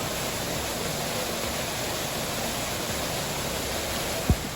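A small waterfall spilling over rocks in a river, a constant broadband rushing hiss heard close and steady, with one brief low thump near the end.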